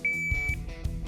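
A shot timer buzzer at a shooting range gives a single clear, steady high-pitched electronic beep lasting about half a second, followed by brief thumps and background noise.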